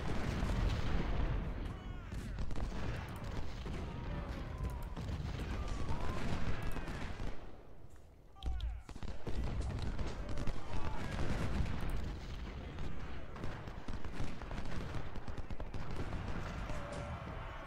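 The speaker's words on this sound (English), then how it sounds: "Three units, plus a bunch of artillery firing on one guy." Civil War battle in the game Ultimate General: Civil War, with a continuous roar of musket volleys and booming artillery, dense and rumbling throughout, briefly dropping near the middle before resuming at full intensity.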